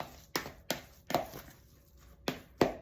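A spoon works through a thick chickpea mushroom burger mixture in a bowl, giving five sharp, separate knocks at irregular intervals, close and fairly quiet.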